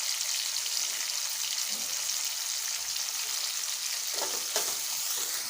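Lemon pieces sizzle and fry steadily in a pan for lemon pickle, a continuous close hiss with a few soft stirring scrapes near the end.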